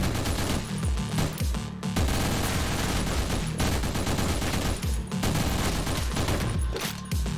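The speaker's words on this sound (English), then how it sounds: "that's a lot of bullets happening at once" Rapid gunfire fills the top-down action game OTXO, a dense nonstop fusillade of shots with heavy bass thumps, loud and continuous throughout with only brief dips.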